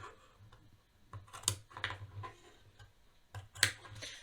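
Scissors snipping into a sharp seam curve on jeans fabric, a few soft close clicks and crisp snips spaced apart over quiet room tone.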